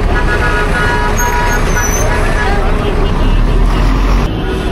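Vehicle horns toot amid dense, loud traffic near the Haram in Makkah, a steady roar of buses and cars with brief honks, while people talk nearby.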